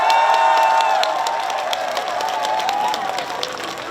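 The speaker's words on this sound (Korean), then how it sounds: "자, 다시 한번 박수 한번 쳐볼까요?" Audience applause and cheering at a beef festival concert in Gimhae, a loud crowd of clapping hands with shouts, while a sustained tone from the stage sound system carries on beneath the steady clapping.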